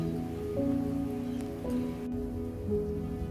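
Steady rain falls and patters on surfaces outdoors, a soft continuous wash of drops with no voices, holding an even level for a few seconds.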